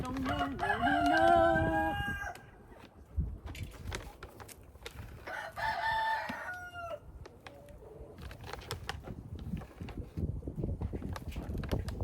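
On a homestead, a rooster crows loudly nearby twice, a long call at the start and another midway, while hens cluck and chatter throughout over a busy, rustling farmyard background.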